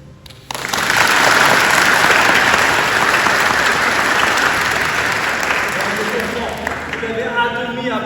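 Applause from an audience at a royal evening at the Palace of Versailles begins abruptly after a short quiet moment and stays loud and steady, with voices entering near the end.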